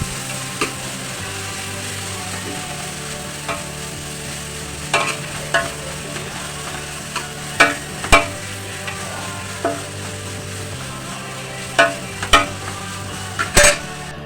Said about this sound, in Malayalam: പച്ചമുളക് കൊട്ടി കൊടുക്കുകയാണ്.